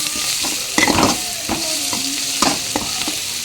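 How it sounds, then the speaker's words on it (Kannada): Lemon rice seasoning sizzles in a hot pan while a spoon stirs it, giving a steady close frying hiss broken by repeated scraping strokes and light clinks, with no talking. "ಇವಾಗ ಇದನ್ನು ಸ್ವಲ್ಪ ಮಿಕ್ಸ್ ಮಾಡ್ಕೊಳ್ಳೋಣ"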